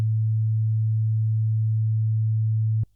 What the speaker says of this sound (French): Je vais vous faire écouter le La qui est juste un étage au-dessus.